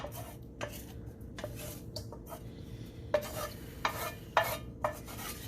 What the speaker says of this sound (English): we're going to take those onions we cooked, And we're going to dump them right in here